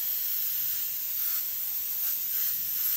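An airbrush sprays paint against a stick to build a granite-like stone texture, giving a steady close hiss that holds evenly throughout with no talk.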